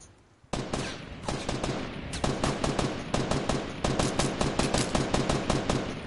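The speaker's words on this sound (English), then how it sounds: "Oh, someone's shooting at me." Gunfire in Everwatch, a single loud shot, then steady rapid bursts of automatic fire that go on nearly without a break, loud and close.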